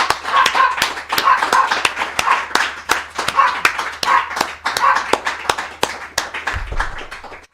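Scattered hand claps from an audience at a religious feast gathering, sharp and fairly steady throughout, with voices talking underneath.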